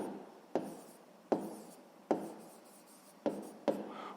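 A pen writing by hand on paper during a math exercise: five short, sharp scratchy strokes at irregular intervals, each fading quickly, close and quiet with no voices.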